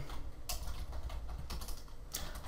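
Code being typed on a computer keyboard, with soft, fairly quiet keystrokes and a few sharper clicks spaced unevenly over a couple of seconds, alone with no voices.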